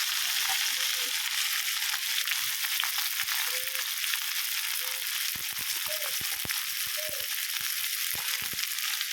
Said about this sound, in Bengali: আলু আর পটল দিয়ে ভেজে নিচ্ছি ভালো করে